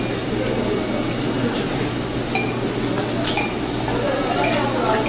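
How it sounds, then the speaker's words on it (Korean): Meat grilling at a table sizzles in a dense, continuous hiss close to the microphone, with faint clinks of utensils. "지글지글."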